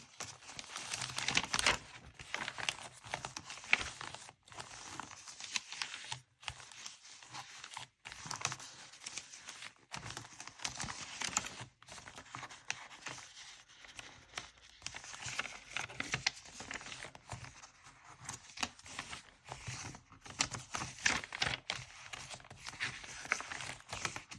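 Paper pages of a handmade art journal with pocket envelopes and collage scraps are flipped open and handled, giving soft crinkling, rustling and patting sounds with frequent small taps over a quiet room, close by and irregular.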